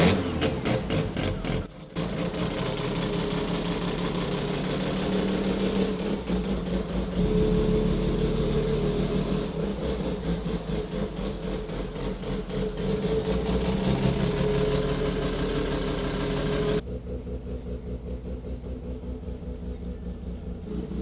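A light car with a Bridgeport-ported rotary engine, 10,000 rpm limiter, is revved hard and held against the limiter, producing a loud buzzing, stuttering rasp for about seventeen seconds before dropping to a lower idle.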